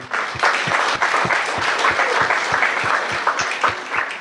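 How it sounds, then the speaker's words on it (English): An audience claps steadily, a brisk even patter of applause that holds at a constant level throughout. "So quick round of applause for everyone on the team who you've met."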